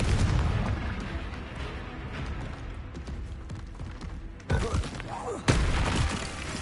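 Booming spell blasts from Confringo and other combat spells in Hogwarts Legacy, a dense run of loud explosive bursts with two sharp louder hits near the end, while a voice shouts spell names throughout.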